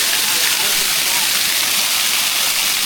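A forest waterfall roars as a dense, steady rush of falling water that fills the whole stretch at constant loudness.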